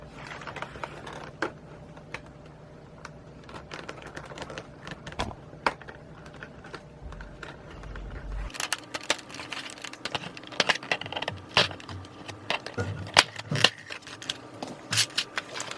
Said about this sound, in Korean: 이제 여기서 키보드를 뒤집으시면 됩니다.